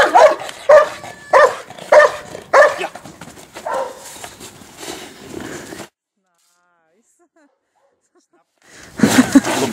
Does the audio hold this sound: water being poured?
no